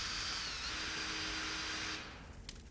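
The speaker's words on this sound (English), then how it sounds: "I drilled pockets with the Forstner bit" A power drill whines steadily with a Forstner bit boring pockets into skateboard wheels, a continuous close drone that winds down and stops, leaving faint handling noise.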